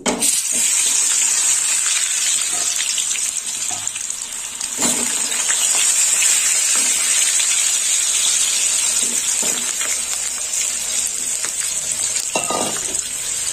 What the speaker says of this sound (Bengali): আলুটা ভেজে নেব। দিয়ে দিলাম আলু।